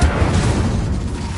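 A fire spell blast erupts in a video game: a loud, dense booming roar that rumbles steadily throughout, like a sustained fiery burst.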